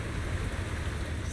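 Rain falls in a Zenless Zone Zero game scene as a steady, soft hiss of drops on surfaces, even and unbroken throughout with no voices.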